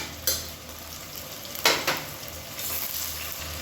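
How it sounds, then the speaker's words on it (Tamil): Sliced onions and split green chillies fry in oil for chicken biryani, a constant close sizzle broken by a few sharp scrapes of a spoon against the pan. "வெங்காயம் நல்லா பொன்னிறமாக வதங்கணும்"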